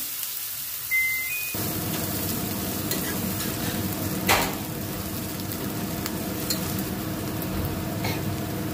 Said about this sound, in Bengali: পেঁয়াজ কুচি, রসুন কুচি একসাথে দিলাম। পেঁয়াজগুলো ব্রাউন হওয়া অবধি আমি